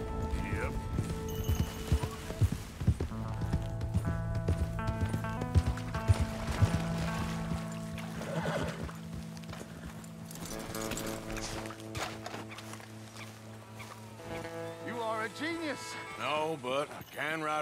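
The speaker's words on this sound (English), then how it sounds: "but I can ride a horse." Horse hooves clip-clop at a steady pace in Red Dead Redemption 2 beneath voices talking, with game-style music tones in the background.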